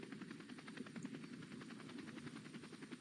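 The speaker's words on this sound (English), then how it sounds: "I can see your helicopter." Helicopter rotor chopping steadily at a distance during a tornado chase, a continuous rhythmic thump with faint wind, no talk.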